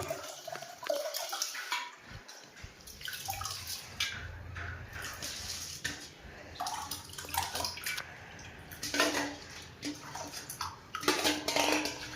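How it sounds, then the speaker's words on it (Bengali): Washed rice tipped into a cooking pot in a home kitchen, giving a run of clattering, scraping pot and grain sounds with wet splashes, fairly close and moderate in level, with no talking. "চালটাকে ধুয়ে রেখেছিলাম, দিয়ে দিই। ভাতটা চাপিয়ে দেবো।"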